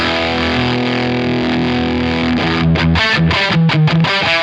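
Electric guitar, a Gibson 335 run through a Roland GP-8 distortion effect, rings out loud and alone: sustained distorted chords at first, then a rhythmic run of short choppy palm-muted stabs.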